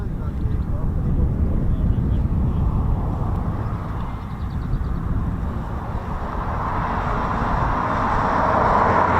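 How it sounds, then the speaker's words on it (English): A Supermarine Spitfire PR aircraft at RAF Coningsby drones as a steady, broad engine roar that builds slightly toward the end, with background sound throughout. "Was that PR Spitfire."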